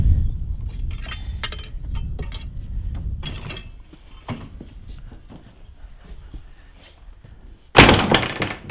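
A wooden door on a smallholding potting shed, built in a former stable stall, is handled with a series of creaks, knocks and latch clunks, ending in a loud, close slam.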